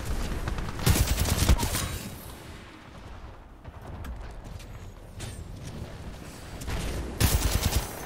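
Weapons fire in the Titanfall 2 shooter comes in loud automatic bursts near the start and end. Quieter ambient combat noise fills the stretch between them.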